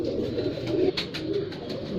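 Pigeons coo softly and repeatedly at close range, with a few brief higher chirps over a low steady background.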